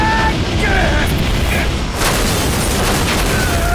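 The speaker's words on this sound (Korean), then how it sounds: "그리고 약속대로 비행기는 폭발해버리죠" An airplane explodes in a Korean TV drama, a loud sustained booming blast with rumbling debris that fills the whole stretch, a second surge partway through, and faint tonal music lines running underneath.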